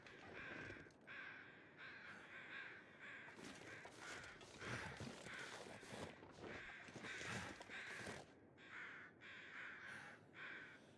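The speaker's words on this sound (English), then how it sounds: "Maybe check out what the crows were all about." Crows cawing in a survival video game, repeated harsh caws in uneven bursts at moderate distance, alone with no talk, over faint ambient background.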